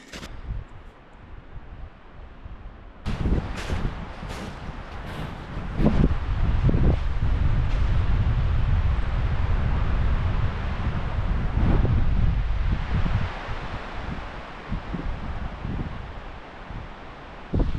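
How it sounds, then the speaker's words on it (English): Cold, gusty wind sweeps across a frozen alpine lake, a loud, steady roar with buffeting microphone rumble that swells from about three seconds onward and stays strong, with no one talking. "Oh my god, it is so bitterly windy cold."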